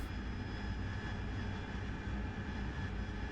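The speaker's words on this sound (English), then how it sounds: "Bring the throttle back a little bit now that we got some good airspeed." An AV-8B Harrier jet engine running with the throttle eased back during a training flight, a steady loud broadband roar with a faint constant whine, unbroken throughout and without speech.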